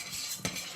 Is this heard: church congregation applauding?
no